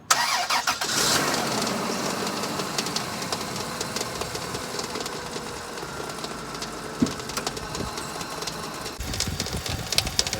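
A 2000 Dodge Caravan engine cranks and catches, then runs steadily at idle close by with a busy, rattling mechanical tone and a faint squeal from the belt area, with no voices over it.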